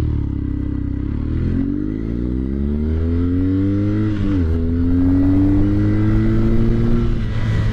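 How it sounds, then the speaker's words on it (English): A 2021 BMW R nineT Urban GS boxer-engine motorcycle accelerates hard, its loud throbbing note climbing in pitch, dipping at a gear change, then rising again close to the microphone. "Yes, sir. The boxer engine."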